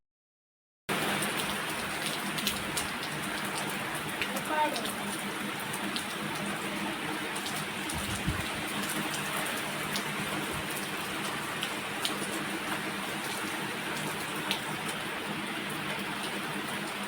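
Steady rain falls continuously on a farm, a dense even hiss with scattered drip and patter accents, fairly close and moderately loud, with no talking.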